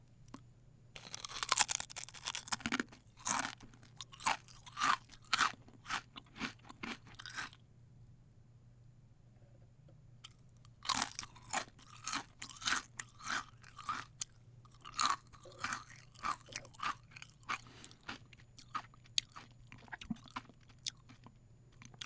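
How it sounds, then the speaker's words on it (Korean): Crunching and chewing of black ghost pepper chips, loud and close, in dense bursts of crisp bites that pause midway before a second run of crunches. "한번 과자부터 한번 먹어볼게요"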